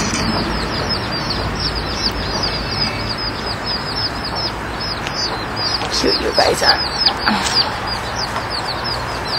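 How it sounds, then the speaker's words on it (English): Hen chicken with her chicks outdoors at a family lookout in Krabi, Thailand, giving repeated soft clucks and chick peeping along with wing flaps, all fairly close, with a brief voice speaking partway through. "I just saw the other chicken I gave them, and she had babies too."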